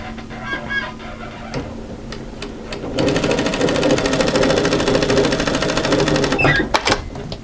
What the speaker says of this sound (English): sew a second line of stitching parallel to the first on the fold side